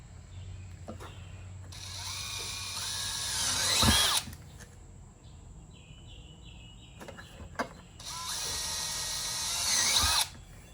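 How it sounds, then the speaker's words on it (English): A power drill bores holes in a Kydex holster sheet, in two loud whining bursts of about two seconds each, separated by quieter handling clicks and rustle. "Let's go ahead and drill those guys."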